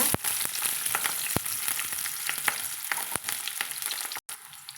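Shallots and green chillies frying in hot oil with mustard seeds, a loud dense crackling sizzle with sharp popping spits and occasional clicks, close up, ending with a brief break in the sound.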